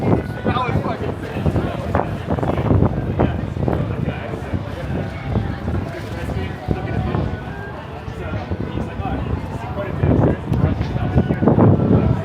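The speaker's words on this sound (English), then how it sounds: "It has got windy all of a sudden." Gusty wind buffeting a microphone outdoors in Toronto after a Blue Jays game at the Dome, a steady broadband rumble that swells and dips throughout, with people talking in the background.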